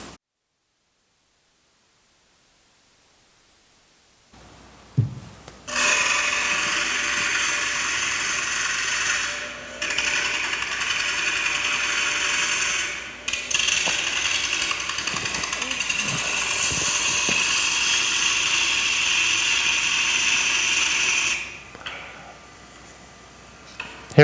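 Bowl gouge cutting a quarter sawn white oak platter on a spinning wood lathe for bulk removal, a loud sustained hissing, rasping roar that holds for about fifteen seconds with brief dips, then stops.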